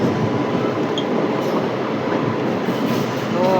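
A passenger train picks up speed just after leaving Gondal station, a loud continuous rumble of wheels on rail with faint squealing and rattling, heard from on board.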